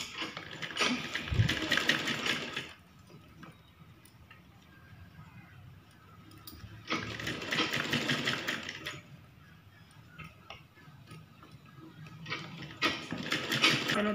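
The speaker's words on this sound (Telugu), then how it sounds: "ఇలా ఈ విధంగా స్టిచ్ చేసుకున్న తర్వాత మనం వీటిని ఇలా పెట్టేసుకొని ఇలా స్టిచ్ చేసేసుకోవాలి." A sewing machine stitches a blouse in bursts of steady rapid whirring, with pauses in between and a few ticks and clicks from handling the fabric.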